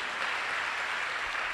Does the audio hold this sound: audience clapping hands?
yes